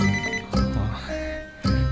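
An incoming call sets off a phone ringtone: loud, close electronic tone bursts that repeat in quick succession with short gaps between them.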